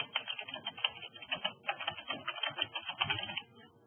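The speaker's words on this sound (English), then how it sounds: "we're going to type in Bloomfield patient" Rapid, uneven keystrokes on a computer keyboard while entering a name into a database query, steady clicking for several seconds and then tapering off, close and alone with no talking.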